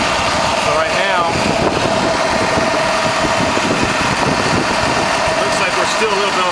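A car engine idles steadily with its AC compressor cycling, a constant close mechanical hum and rattle running throughout under faint background noise.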